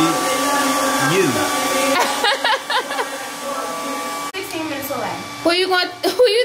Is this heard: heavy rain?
no